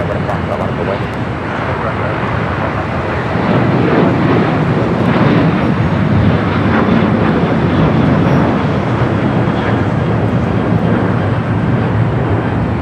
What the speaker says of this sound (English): Speedbird, flight 281, coming up from London Heathrow, the 777-300ER.